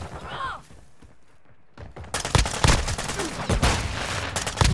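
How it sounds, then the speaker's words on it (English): Gunfire in Call of Duty Modern Warfare II bursts out loud and close after a quieter opening, with rapid overlapping shots and heavy thumps. "Where the fuck did you shoot me from?"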